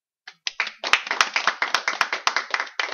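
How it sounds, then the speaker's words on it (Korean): A small audience claps after a lecture, rhythmic close hand claps that start sparse, settle into a steady, quick beat and carry on for a few seconds without voices. "강의해 주신 현웅대님께 박수."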